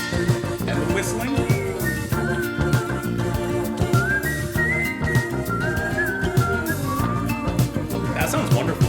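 A whistled melody rides over the band and orchestration in a song, with a voice talking over parts of the music.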